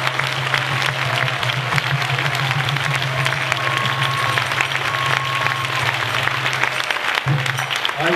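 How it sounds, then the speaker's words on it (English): At a devotional gathering, an audience gives a round of applause of steady, continuous clapping from a crowd at a constant level. A low hum runs underneath, and a voice briefly says a few words near the end. "So please give them a round of applause."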